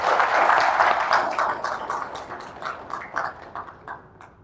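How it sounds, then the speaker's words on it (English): Applause from a seminar audience at a corporate ESG strategy event starts full and dense, then thins into scattered, fading claps. "give him a big hand and a big round of applause"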